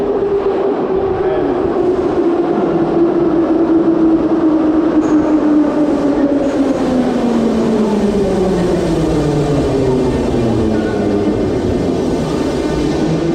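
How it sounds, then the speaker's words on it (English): A metro train pulls into Rustaveli station in Tbilisi, the city's deepest, with a loud rumble and a falling whine as it slows along the platform, steady and close throughout. "And here comes the train."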